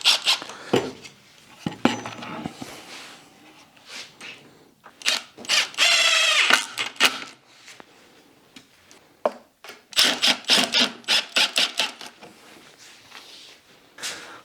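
A number 3 hex key drives screws into a Sjobergs SM04 workbench cabinet. Close scraping, ratcheting turns and wooden knocks come in bursts with short pauses between them.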